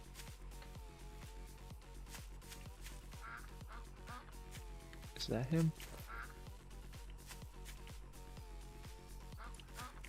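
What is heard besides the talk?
duck quacking in the video game Night of the Dead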